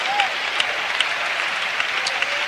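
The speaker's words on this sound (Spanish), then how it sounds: "Vamos a aplaudirle fuerte al nombre de Jesucristo." A church congregation applauding at a Pentecostal service, dense steady clapping held at an even level throughout, with a faint voice briefly audible underneath.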